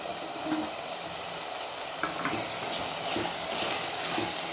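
Cut potatoes sautéing in a pan for a mochai masala, giving a steady moderate sizzle with soft stirring scrapes and small crackles throughout, no talking.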